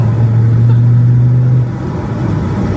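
A Volvo D5 car with a loose, wobbly front end holds a loud, steady low revving drone through its exhaust, then the engine note drops off abruptly to a lower idle rumble, close by with no talk.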